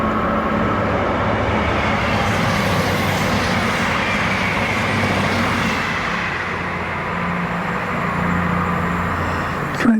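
Train bound for Salisbury, half in new livery and half in old, rumbling past near the remains of a demolished junction, a loud continuous roar that eases slightly toward the end, with no talking.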